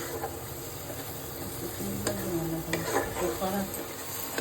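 Spice masala of onion, cumin, coriander, turmeric and Kashmiri red chili powders sizzles in oil for dal makhani. A steady close frying hiss runs throughout, broken by scraping stirs against the pan.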